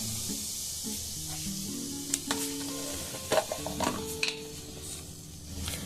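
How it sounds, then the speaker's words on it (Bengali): Potatoes dropped into hot oil with turmeric sizzle steadily, with occasional scrapes and clinks of a spatula against the pan, fairly quiet and close. "এখন এইখানে আমি ভেজে নেব কতগুলো আলুকে"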